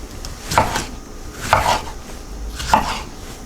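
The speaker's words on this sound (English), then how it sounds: "Chop them up" Knife chopping vegetables for soup on a board, three separate firm thuds spaced about a second apart, close and clear with no talking.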